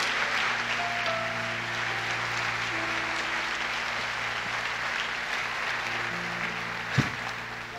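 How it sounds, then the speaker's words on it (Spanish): A church congregation applauds during a Christmas Day service, a sustained, even wash of clapping across the room with a steady low hum beneath it. "dale ese aplauso"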